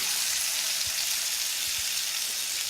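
Thick pork chops searing in a hot pan after being flipped, a loud, constant, bright sizzle and spatter that holds steady throughout without a pause.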